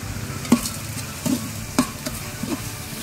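Tomatoes with rock salt sauteing in a large pan for a ten-person chicken biryani, a steady sizzle broken by four evenly spaced scrapes and knocks of a ladle stirring, close and fairly loud.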